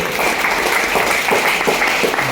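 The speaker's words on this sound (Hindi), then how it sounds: "जोरदार तालियां इस अपॉर्चुनिटी के लिए" Loud applause from an audience at a business opportunity seminar, a dense, continuous roar of many hands clapping at once.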